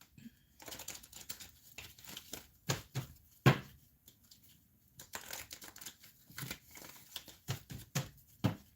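Tarot cards riffled and shuffled by hand during a reading, soft papery bursts of flicking and sliding that start and stop irregularly, close by and fairly quiet.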